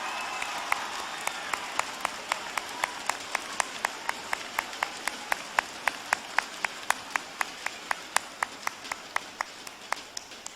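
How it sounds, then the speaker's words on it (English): Students at a school celebration clap together, a steady crowd of sparse, sharp claps spread evenly across the whole stretch with no voices, sounding moderately distant and fairly quiet. "give yourselves a round of applause"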